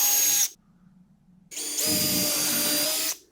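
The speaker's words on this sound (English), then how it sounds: "we want to drill a hole here and a hole here that are 16 inches apart." Loud whine of a power drill in two bursts, a short spin, a pause with a faint hum, then a longer grinding run boring into wood.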